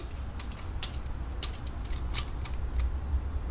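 A Clamptite clamping tool on a Dodge Ram Cummins clamp gives a quick run of dry metallic clicks and creaks, close and fairly quiet, in an irregular ratcheting rhythm over a low background rumble.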